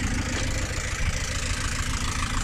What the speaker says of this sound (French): je vais couper le moteur parce que